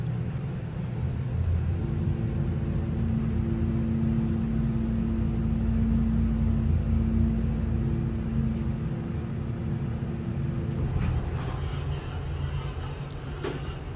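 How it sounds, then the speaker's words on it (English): A vintage Dover hydraulic elevator motor runs in a department store, a steady low hum and rumble with a faint tonal whine that lasts for several seconds, then shifts as the car comes to a stop. "So I'm gonna let you listen to the motor"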